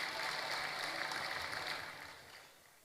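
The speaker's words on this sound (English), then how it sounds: "Please, a round of applause for him, ladies and gentlemen." Audience applause after a senator is introduced at a party gathering, a steady broadband patter of clapping that fades toward the end.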